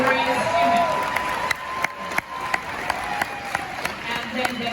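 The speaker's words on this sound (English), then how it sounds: "let's applaud him" A packed Hall H audience at the 2022 San Diego Comic Con Marvel Studios panel applauds, with scattered sharp claps and steady crowd murmur under ongoing speech.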